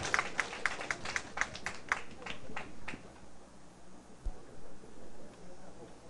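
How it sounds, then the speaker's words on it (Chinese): Audience applause at a closing session of a lecture gathering, a burst of clapping that fades out over a few seconds, leaving quiet room noise. "咱阁鼓掌一次，请总理来甲指导一下"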